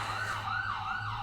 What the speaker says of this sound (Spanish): Dejen que pase la ambulancia.